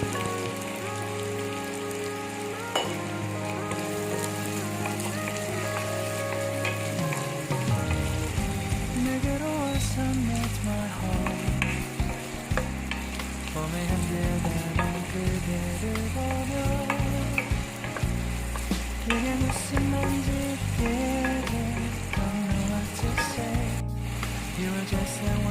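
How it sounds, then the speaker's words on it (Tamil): Two large onions, finely chopped, fry in oil for Andhra pappu, giving a loud, dense, steady sizzle with stirring over tonal backing for the whole stretch. "பப்பு செய்கிறதுக்கு 2 பெரிய வெங்காயம் இந்த மாதிரி சின்னதாக சாப் பண்ணி அதை எண்ணெயில் நல்லா ஃப்ரை"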